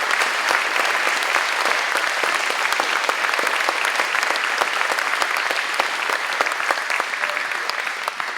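Audience at a school graduation ceremony clapping steadily and fairly close, with a dense rattle of hands that continues evenly throughout and thins only slightly at the end.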